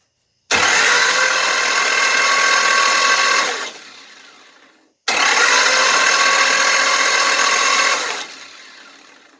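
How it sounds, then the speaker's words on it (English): A 318 engine with its spark plugs removed is cranked by the starter for a compression test, two long even whirring bursts of about three seconds each that wind down and stop, loud and close. "We're going to just spin the engine over, make sure it spins over nice and free."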